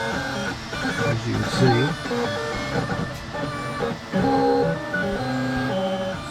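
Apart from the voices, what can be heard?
printer printing a Beskar bar case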